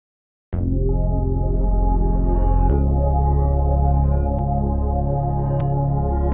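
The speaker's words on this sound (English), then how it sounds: "we had a bass layer that sounded like this already." A deep bass layer in a beat sample for a track enters after a brief silence as a loud, sustained low tone, shifting to a new note partway through and holding steady to the end, with no voices.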